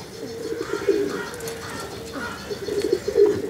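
Pigeons in a loft coo in low, throaty, repeated phrases that swell and fade, several birds overlapping at close range with faint chirps in the background.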